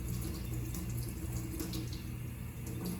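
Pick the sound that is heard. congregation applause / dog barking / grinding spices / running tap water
running tap water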